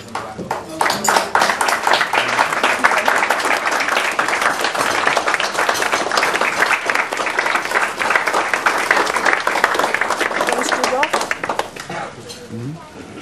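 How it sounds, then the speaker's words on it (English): Wedding guests give a long, dense round of applause at a reception, loud and sustained for about eleven seconds before tapering off, with a voice speaking as it fades. "Give them a round of applause."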